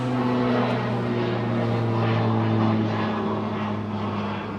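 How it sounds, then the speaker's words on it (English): A UPS Boeing 767 airliner on approach with its landing gear down gives a steady, loud engine drone with strong tonal hum, sustained throughout and slowly fading slightly at the end, near Anchorage. "I've got a UPS 767 on approach. It's got its gear down already."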